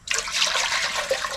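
Cider vinegar poured into a pot for pickling at an off-grid cabin, a steady close liquid stream running for well over a second with no voices.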